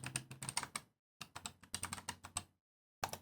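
Rapid keystrokes on a computer keyboard come in three close bursts with short pauses between them, each run of clicks crisp and near with no voice over it.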